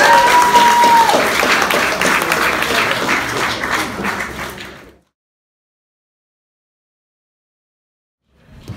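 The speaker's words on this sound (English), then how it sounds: "can everyone just give her a round of applause?" An audience at a cosplay competition during a comic con in Bury St Edmunds claps loudly in a dense burst of applause that fades out after about five seconds, then silence.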